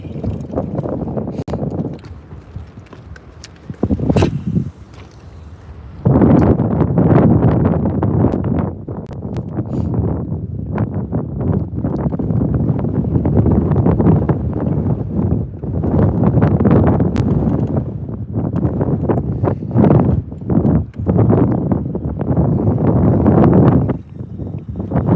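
Wind roars across a microphone on a bass-fishing boat out on open water, a loud, steady broadband buffeting that swells and dips in gusts for the whole stretch.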